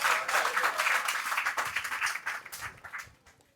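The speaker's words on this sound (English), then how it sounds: "Let us clap for our mother" An audience at a press conference for the Odwira festival planning committee claps steadily, fairly loud and dense, then fades toward the end.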